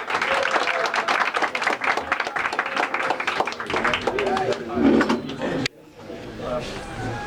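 Crowd applause for new yeshiva students at a Chabad gathering, rapid dense clapping with voices over it, briefly thinning before a sudden drop and lighter clapping.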